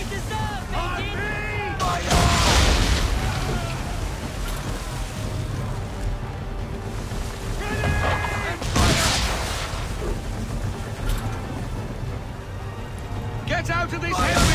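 Swivel guns firing from a sailing ship in Assassin's Creed 3, several loud booming shots spread through a busy battle scene, with shouting crew voices and rumbling sea noise throughout.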